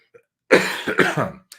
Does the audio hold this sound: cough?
yes